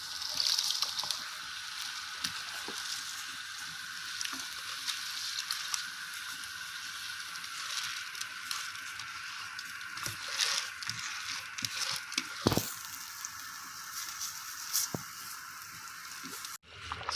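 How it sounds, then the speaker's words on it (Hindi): Water boils in a pot for yakhni pulao, a soft, steady bubbling hiss with occasional faint pops and clinks, quiet and continuous throughout. "देखिए, पानी पक रहा है, इसको उबाल आ गया अच्छे से।"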